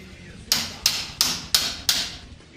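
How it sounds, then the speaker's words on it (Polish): Five sharp, evenly spaced hammer blows struck through a cap to drive a part into a FOX36 FIT RC2 suspension fork, each a close metallic knock with a short ring, alone with no talk. "Teraz przez tą nasadkę musicie uderzyć kilka razy"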